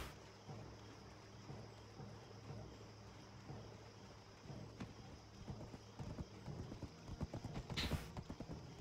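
Horse hooves clip-clopping in the video game Black Desert, a faint, steady rhythmic trot that grows louder and more distinct toward the end over quiet ambient background.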